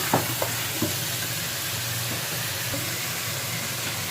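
Sliced onions fry in a pan with salt, a dense continuous sizzle close by, with a few light stirring knocks at the start.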